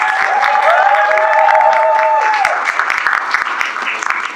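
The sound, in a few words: applause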